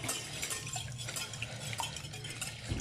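A whisk stirs egg and crêpe batter in a bowl, a soft continuous scraping and swishing with faint rhythmic clicks against the sides, quiet and close.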